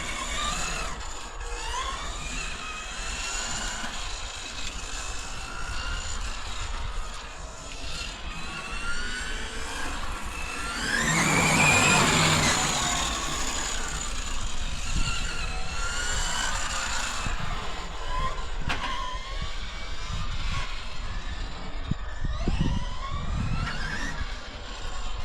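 An FG Porsche 530mm RC car's engine buzzes continuously with rising and falling pitch as it accelerates, building to a louder, higher whine partway through, with gritty background noise throughout.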